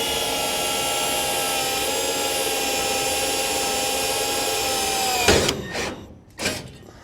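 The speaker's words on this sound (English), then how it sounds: "So just got it in the drill here. Find me center pop and line him up and just go straight through." An electric drill with a 3.2 mm bit whines steadily at constant pitch while boring straight through a workpiece, then stops sharply near the end, followed by a couple of brief knocks.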